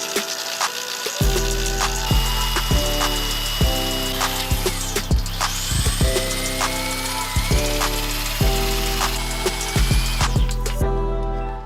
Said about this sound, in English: I'm going to drill the hole here.